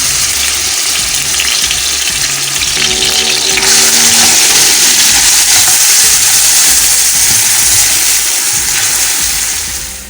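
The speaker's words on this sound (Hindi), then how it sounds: "इसके अंदर ये मैं थोड़ी सी प्याज जो है सौते करूँगी।" Sliced onions sauté in about three tablespoons of hot oil for lobia keema, a loud, close, continuous sizzle that swells and stays strong for the whole stretch, with no talking.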